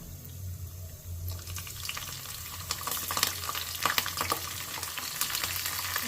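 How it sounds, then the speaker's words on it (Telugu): Green chillies hit hot oil in a pan for a pulihora tempering, and a steady sizzle swells after about a second. Stirring noises sit over a low hum, close by, with no talking. "దాంతోపాటు పచ్చిమిర్చి వేస్తున్నాను"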